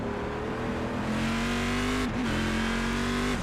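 A Corvette race car engine in a sim racing game at Daytona holds a steady high-pitched drone, dips briefly as it shifts, then climbs again, loud and continuous with no voices.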